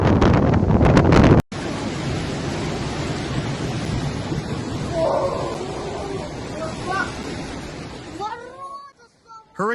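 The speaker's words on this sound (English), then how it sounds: "Hurricane Batina ravages Russia's Black Sea coast." Hurricane Batina drives roaring wind and heavy surf onto Russia's Black Sea coast, a dense, loud and continuous rumble with wind buffeting the microphone, cut off briefly near the start, with faint shouting voices rising near the end.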